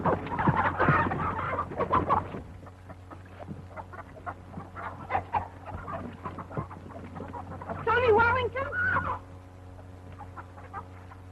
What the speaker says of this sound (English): you the boy that's been stealing Aunt Hetty's chickens?